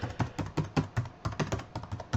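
Quick, steady keystrokes on a computer keyboard as a web address is entered in a website editor, about a dozen close, crisp clicks in an even rhythm with no talking.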